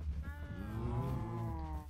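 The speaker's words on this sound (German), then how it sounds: "Oh, kleine Kuh." A cow moos in the Minecraft Industrial Craft 2 game, one drawn-out, wavering low call lasting the whole couple of seconds, loud and close with no talk over it.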